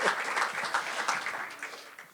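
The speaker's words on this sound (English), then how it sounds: "let's give them a round of applause because they're here on their day off" Luncheon audience applauding, a brief burst of many hands clapping at moderate distance, fading toward the end.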